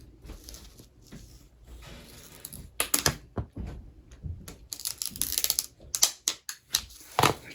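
A rotary fabric cutter rolled down the groove of a split turkey feather for arrow fletching, giving quick crisp slicing and scraping ticks in short bursts, close and fairly loud.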